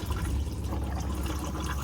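Fresh water rushes into the bowl of the toilet in a Swift Escape Freestyle 694 after its flush button is pressed, making a short, steady gurgling flow close by.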